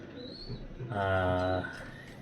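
A racing pigeon coos once in a low, throaty rolling call, close to the microphone, over faint background murmur.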